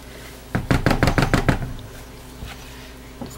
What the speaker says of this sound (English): Get this all scraped down and give a good stir.